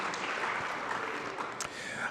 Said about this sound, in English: Let's give Dean Wright a round of applause.